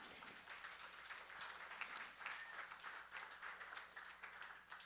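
An audience applauds a storyteller on stage, a faint, steady patter of clapping heard from a distance that neither swells nor fades.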